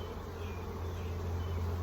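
Masses of honeybees drone in an opened hive during spring splitting, a thick, unbroken buzz heard up close and alone, swelling slightly toward the end.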